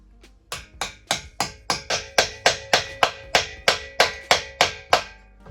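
A steady run of about fifteen sharp hammer blows on nails while building a ladder, evenly spaced and close, each strike ringing briefly before the next.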